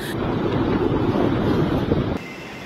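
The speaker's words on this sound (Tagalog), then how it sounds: "Ang hangin sumisipol." Loud, steady roar of typhoon wind with heavy rain buffeting the microphone over rough, churning sea in Catanduanes, Philippines, continuous and harsh until it suddenly drops off near the end.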